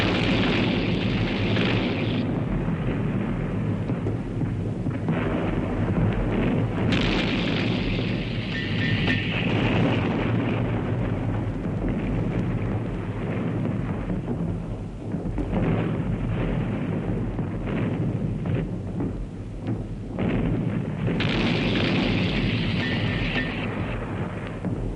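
Archival war footage of an artillery bombardment pounding Italian trenches, dugouts and shelters: a dense, continuous roar of rumbling blasts and bursts that fills the whole stretch, loud and unbroken with no voices.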